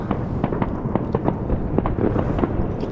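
Fireworks exploding on New Year's Eve beside the water while night fishing for zander, a rapid, continuous barrage of sharp cracks and pops over a dense rumbling roar, loud and fairly close.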